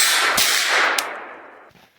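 A KelTec Sub2000 9mm carbine fires on an outdoor range, two loud, sharp reports about half a second apart, each followed by a ringing echo and a faint metallic clink as the shots decay.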